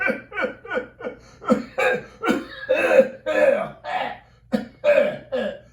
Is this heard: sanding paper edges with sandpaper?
no